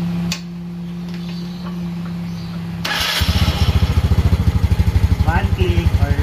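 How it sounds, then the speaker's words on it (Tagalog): An old stock motorcycle that has sat unused for a long time cranks with a whir, then catches and settles into a loud, steady, rhythmic thumping idle close by, with someone talking over it. "tatry na natin siyang pa-startin kasi medyo matagal to natenga"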